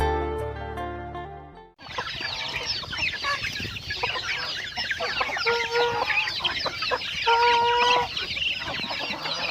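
Chickens cluck and squawk continuously and close by in a rural Thai setting after rain, with a few louder drawn-out calls among the flock, following a brief stretch of music at the start.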